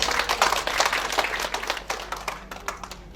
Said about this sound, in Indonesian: Tepuk tangan untuk CMMI